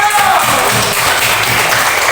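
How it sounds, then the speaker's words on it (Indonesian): A burst of loud, dense applause from a classroom group, steady clapping throughout with no pauses. "Tepuk tangan untuk kelompok 1."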